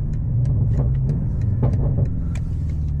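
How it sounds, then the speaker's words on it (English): A car engine and exhaust idling on a cold 36-degree day, a steady close, loud low rumble with faint ticking over it and no talk. "so the exhaust sounds pretty gnarly right now"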